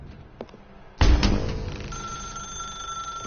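A telephone in The Stanley Parable video game sounds a single sudden metallic ring that rings out and decays with a lingering tone, preceded by a couple of faint ticks.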